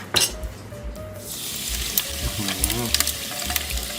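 Carbonated soda fizzes and hisses steadily as it is poured into a large 1.7-litre Cille insulated tumbler, a broad bright crackle building after the first second, with a voice briefly in the background.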